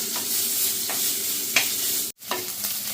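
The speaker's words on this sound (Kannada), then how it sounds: "ಚೆನ್ನಾಗಿ ಫ್ರೈ ಆದಮೇಲೆ ಈರುಳ್ಳಿನ ಹಾಕೊಂಡಿದ್ದಾರೆ" Onions frying with ginger, garlic and green chilli in a pan for a Kerala-style dish, a close steady sizzle with repeated stirring scrapes and a brief cut-out near the end.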